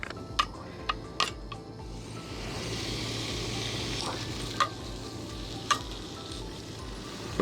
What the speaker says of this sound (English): Let's get some of the moisture in this bacon cooked off.